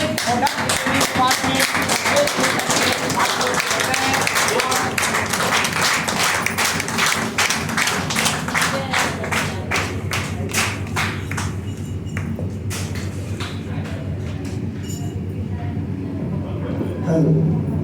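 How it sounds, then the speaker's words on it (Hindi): An audience stands and claps loudly to welcome a speaker, with individual sharp claps closely spaced at first, then thinning out into scattered claps before a voice speaks briefly near the end. "आप लोग खड़ा होकर उनको जोरदार तालियों से स्वागत करें"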